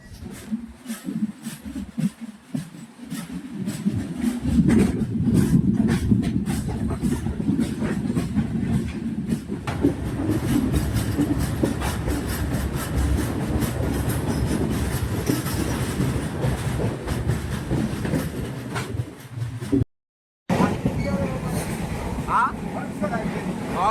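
A train departing Karmali station in Goa rumbles steadily with continuous rail noise and wheel clatter, loud and close throughout, with a brief dropout near the end.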